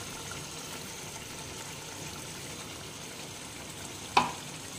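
Cashew paste frying in a pan with a little water gives a continuous, even sizzle close by, broken near the end by a single sharp metallic clink.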